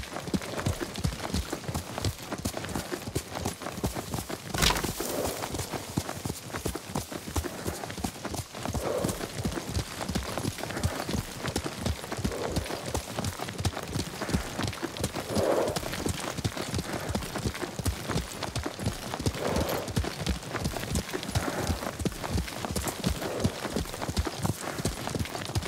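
Rhythmic hoofbeats of a horse galloping in the video game Ghost of Tsushima pound steadily and close for the whole stretch, with a faint whinny and a brief character voice now and then.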